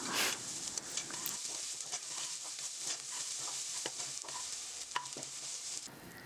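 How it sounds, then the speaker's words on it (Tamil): Onions with ginger and garlic fry in a pan, a close steady sizzle broken by repeated scraping and clinks of a spoon stirring, with no talking. "வெங்காயம் கொஞ்சமாக வதங்கினதும் நம்ம இஞ்சி பூண்டெல்லாம் சேர்த்திக்கலாங்க"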